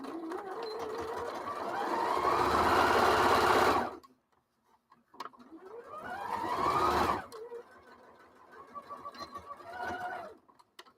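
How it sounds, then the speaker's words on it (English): A sewing machine stitching a half-inch seam runs in a close whirring burst that speeds up over about four seconds and stops. A second burst follows, then slower, uneven stitching. "You're going to do a 1/2 inch seam all the way up."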